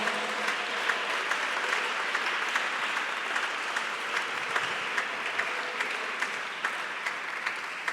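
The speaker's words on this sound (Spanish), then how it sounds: "Denles aplauso fuerte al Señor esta mañana" A church congregation applauds in a sustained, even roar of many hands clapping that stays steady from start to finish, with no talking over it.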